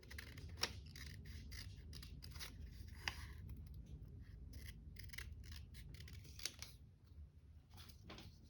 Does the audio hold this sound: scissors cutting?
yes